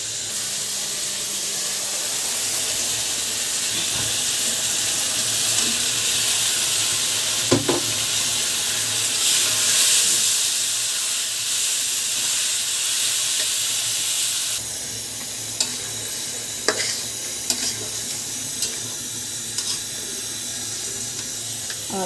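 Curry cooking in a pan with added water gives a dense, continuous hiss and sizzle throughout, dropping slightly in level partway, with a few faint knocks of a utensil.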